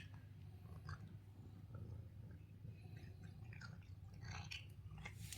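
A cat named Daisy chewing on a fish treat stick, heard close up as faint, wet, irregular crunching and squishy bites against quiet room tone.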